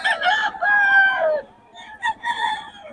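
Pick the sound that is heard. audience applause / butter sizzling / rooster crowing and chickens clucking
rooster crowing and chickens clucking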